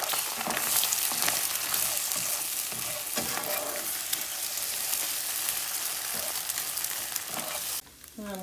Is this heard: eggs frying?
yes